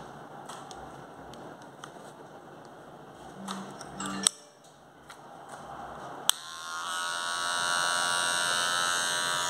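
Electric hair clippers fitted with a number 2 guard cut hair for a V-shaped fade, giving a steady buzzing drone with a few sharp clicks partway through, then running louder and smoother toward the end with no talking.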